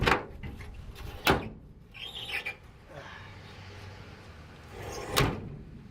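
Rear suicide door on a 1951 Studebaker four-door being opened, with several sharp clunks and latch clicks, close by, separated by quieter handling noise and a faint creak.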